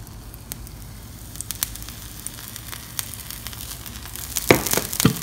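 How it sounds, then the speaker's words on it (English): Oil sizzling and crackling softly in a hot pan on low flame for wheat chilla, a steady faint fizz with a few louder pops near the end. "I need to add a little oil"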